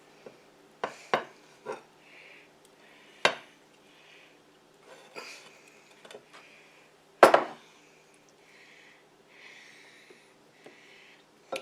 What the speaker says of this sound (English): So now I'm going to put half of this in this casserole dish.